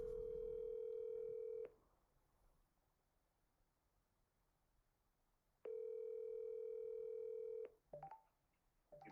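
Steady telephone tones sound on a call line, a long continuous tone stopping, then after a quiet gap another tone followed by brief dialing blips and clicks, heard alone and fairly faint.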